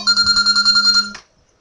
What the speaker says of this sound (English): Somebody didn't silence his phone.